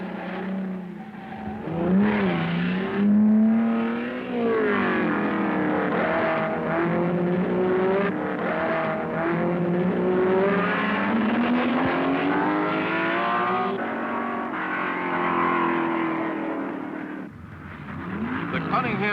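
Ferrari and Porsche race cars, including 3.3-litre and 4-litre Ferraris and 2-litre Porsche 904s, roar past at the 1964 Sebring 12 Hours, engines rising and falling in pitch continuously under a commentator's voice.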